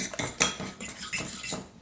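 Eggs and grated pecorino cheese being whisked together in a bowl with a utensil, producing quick, close clinking and scraping strokes in a brisk uneven rhythm.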